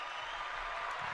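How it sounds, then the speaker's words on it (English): A short burst of crowd applause from a soundboard button, a dense, even clapping roar that stays level for about a second. "It was just applause. It was wonderful applause."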